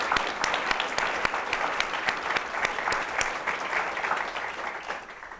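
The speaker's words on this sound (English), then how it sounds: "Let's take a round of applause." Sustained audience applause fills a conference hall at a transatlantic diplomacy panel event, dense and steady with sharp individual claps standing out, fading slightly toward the end.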